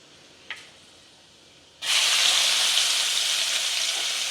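Onions dropped into a hot pan while cooking Burma-style dried fish (karuvadu) burst into loud, steady frying sizzle that starts abruptly and continues at full strength, preceded by a brief faint click.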